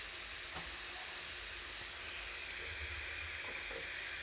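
Garlic frying in a pan of hot oil for a dried red chilli and garlic curry, giving a steady, close sizzle with soft hiss and a few faint pops throughout.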